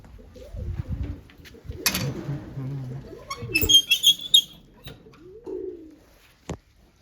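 Pet pigeons gathered together in one spot give a few soft, close coos, broken by clattering, brief chirps and the voices of people nearby.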